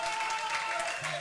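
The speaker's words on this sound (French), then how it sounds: "on peut applaudir pour lui" Steady applause from an audience at a religious debate, a dense wash of clapping at moderate level with a low tone or voice briefly underneath.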